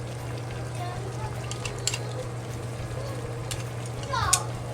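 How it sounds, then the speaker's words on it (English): Potatoes being stirred into simmering chicken stew in a pan give a soft continuous sizzle with faint scrapes and clinks of a utensil, quiet and close under a steady low hum. "we stir the potato into the meat"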